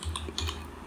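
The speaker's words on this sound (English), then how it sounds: "you just need to press Alt key with the 228" Quick keystrokes on a computer keyboard while entering an Alt key shortcut, a few close, crisp clicks in under a second with no talk.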